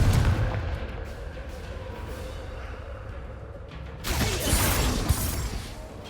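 A Confringo explosive fire spell going off in Hogwarts Legacy, a loud booming blast over dense rumbling game noise, with a second sharp burst of crackling impact about two-thirds of the way through.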